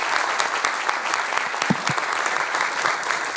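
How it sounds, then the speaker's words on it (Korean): An audience applauds steadily to welcome the army chief of staff at a 2023 military chaplaincy seminar, a dense, sustained round of clapping from a crowded hall. "큰 박수로 맞이해 주시기 바랍니다."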